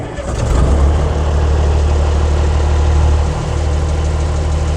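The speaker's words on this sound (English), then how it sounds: "So we're going to go ahead and push the engine stop in, turn it on the fuel, and we're going to start her up." A Deuce and a half military truck engine cranks and catches, then settles into a loud, steady, deep diesel rumble that runs on alone at close range.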